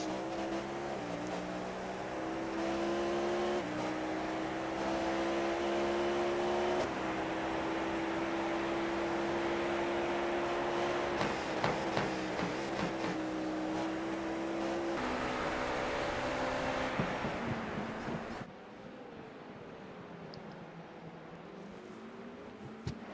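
Race car engine on light load during an iRacing endurance race at Sebring, a steady droning whine that shifts pitch slightly, then drops to quieter road and wind noise near the end.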